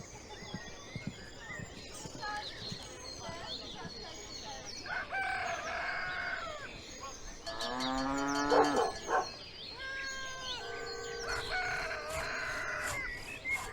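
Busy village soundscape: cattle mooing and a rooster crowing over steady background ambience, with birds and other animal calls mixed throughout.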